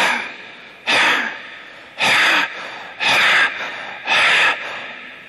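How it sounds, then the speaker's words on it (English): Forceful exhalations pushed through a constricted throat in Simha Kriya yoga give four loud, raspy, hissing bursts at a steady rhythm about once per second, with quieter breaths in between. "you must get the sound by making a constriction in your throat like this."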